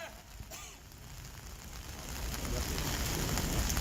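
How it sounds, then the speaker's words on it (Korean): Rain falls on a city street during an outdoor rally, a soft steady hiss of drops that grows gradually louder across the few seconds, fairly faint with a faint murmur of people. "오늘 이렇게 비가 오고 그러는데"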